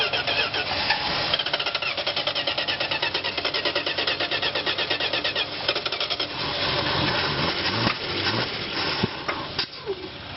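A 1971 Dodge Coronet engine cranks with a rapid, rhythmic starter churn for several seconds, then catches and runs rough and loud, sputtering up close.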